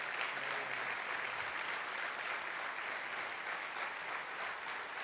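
A church congregation applauds the Lord during a sermon, continuous clapping that sounds somewhat distant and moderately quiet, holding steady for about five seconds.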